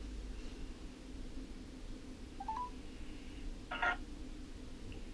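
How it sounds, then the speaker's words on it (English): Telephone keypad tones sound as a number is dialed on a cell phone: a few short DTMF beeps, one near the middle and a brighter cluster later, over a steady background hiss. "Let me try calling them again."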